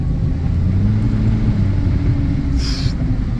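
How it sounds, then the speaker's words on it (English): A 2007 Kia Sportage rolls on grippy rally tires over asphalt, giving a steady low road rumble and tire drone heard close from inside the car, with no talk. "Those grippy tires sound good on these little cars though"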